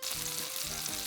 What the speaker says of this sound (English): Make sure to flip the steak onto all of its sides and edges to sear it.